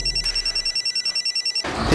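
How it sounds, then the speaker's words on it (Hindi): A telephone rings unanswered in a crime drama scene, a rapid trilling electronic ring pulsing steadily and loud, then cut off by a rumbling burst at the end. "तेजस्विनी फोन नहीं उठा रही है।"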